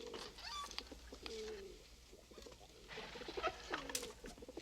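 Pigeons cooing in a quiet film scene, soft low repeated coos and throaty murmurs from a few birds, fairly faint and close, with no speech over them.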